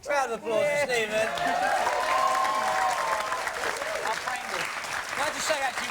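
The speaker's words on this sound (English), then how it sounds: "Round of applause for Stephen." An audience claps in a round of applause for Stephen Gateley at a live talk event, a dense sustained clatter mixed with cheers and a voice speaking over it.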